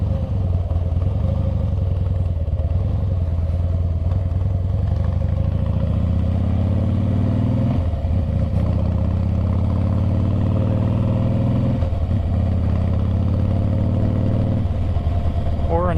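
A 2012 Harley-Davidson Heritage Softail Classic out on a ride, its engine droning loud and steady with rising tones as it accelerates through the gears, plus a rumbling throb and wind.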